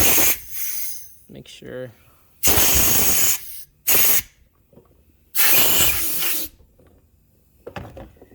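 Compressed air blasts into a Can-Am X3 clutch housing in short loud hissing bursts, three main gusts separated by quiet gaps, with someone speaking briefly between them.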